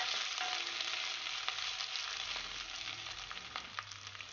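Vegetables for a millet bath cook in a pan, sizzling and frying steadily up close, with occasional soft crackles and stirring noises.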